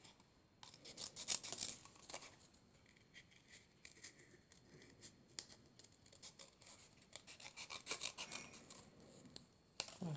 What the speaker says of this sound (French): On vient aussi le tamponner sur un papier à part et on vient le découper.